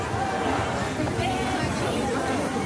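Thick street crowd in Myeongdong, Seoul, a dense continuous babble of many voices close around at a night market, steady and even throughout.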